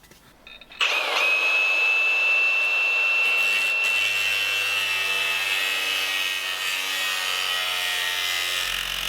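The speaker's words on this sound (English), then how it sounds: "So I'll get my grinder out and we'll cut along this line." An angle grinder starts up and cuts through a rusty body panel on a Ford Escort Cosworth, a loud, steady high-pitched whine with a gritty metal-cutting edge running continuously after a brief start.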